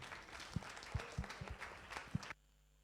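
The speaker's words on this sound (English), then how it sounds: "I would like to invite you for a round of applause for our three panelists." An audience at a plenary conference session gives a short round of applause for the panelists, a soft patter of scattered claps that ends abruptly.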